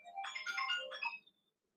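A short melodic phone ringtone burst plays loud and close for about a second, a bright run of electronic notes that cuts off abruptly into silence.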